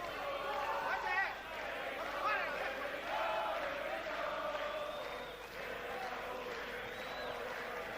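A boxing arena crowd at a Mike McCallum vs Steve Collins fight swells into a steady, massed sung chant, with rising and falling tones over a dense roar, while a commentator talks over it.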